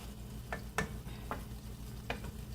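Onion frying quietly in a pan for a brinjal and shrimp dish, a low faint sizzle with a few soft taps of a utensil, no speech.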